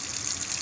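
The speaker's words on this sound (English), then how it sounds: "Let only cold water go," Cold tap water runs steadily into a kitchen sink fitted with a garbage disposal, a continuous hissing gush at moderate level with no talk.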